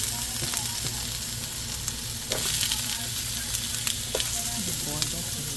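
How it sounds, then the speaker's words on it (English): Chopped onion sizzles in a hot pan alongside tofu, a steady close crackle and hiss with occasional sharper pops and the scrape of stirring. "Then I'm going to add the onion."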